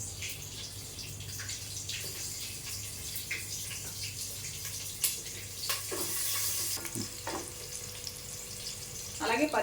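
Onions frying in hot oil in a pan for prawn pulao, a steady low sizzle with scattered stirring clatters and spoon knocks close by.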